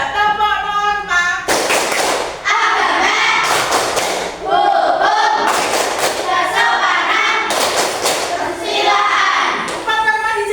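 A group of schoolchildren in a classroom claps a rhythmic chant game, loud bursts of hand claps in short patterned sets separated by brief pauses, with chanting voices mixed in.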